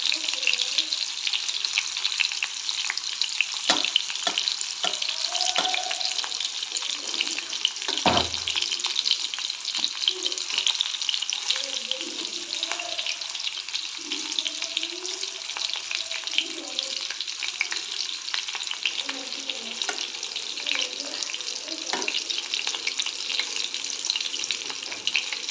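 Bitter gourd sizzles steadily in hot oil in a pan for a gourd and roasted gram fry, with soft scraping stirs now and then and a faint voice in the background throughout.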